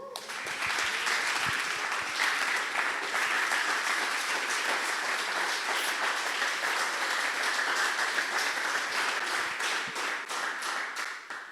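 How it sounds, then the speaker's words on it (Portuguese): A church congregation applauds during a sermon, dense and sustained clapping from many people filling the room at even loudness for about eleven seconds before tapering. "Aplauda o Senhor."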